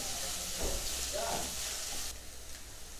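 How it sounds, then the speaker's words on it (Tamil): Large onions sautéing in hot oil for a green chicken gravy, a steady broadband sizzle with brief stirring scrapes, close and fairly loud, easing slightly toward the end. "இதில் நம்ம கட் பண்ணி வச்சுருக்க பெரிய வெங்காயத்தை சேர்த்துக்கலாம். நல்லா வதக்கி விட்டுக்கலாம்."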